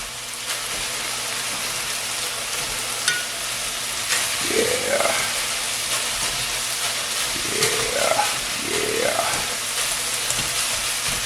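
Chunks of meat browning in a cast iron pan give a steady, loud sizzle and crackle that lasts throughout, with a faint voice briefly rising above the frying hiss.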